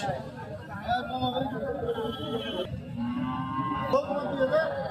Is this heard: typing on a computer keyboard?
no